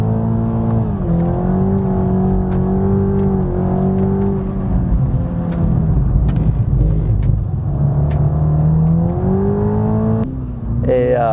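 Toyota GR Yaris or Supra 2.0 engine pulling hard after a gear change, a loud close steady drone with rising harmonics across the run and a brief dip near the end.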